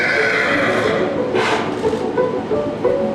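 A large horse gives a loud whinny in the middle of a steady ambient background, with some hoof shuffling around it.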